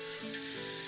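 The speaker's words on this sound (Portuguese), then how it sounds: "Então a manteiga na panela," Butter sizzles steadily in a hot frying pan with a continuous bright hiss and faint tonal crackle throughout, fairly quiet and with no talk.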